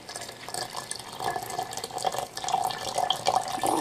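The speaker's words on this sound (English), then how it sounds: "as I pour this in here" Hot water is poured into a tea bowl over tea leaves, a soft close splashing and trickling stream that grows a little louder and bubblier as it fills.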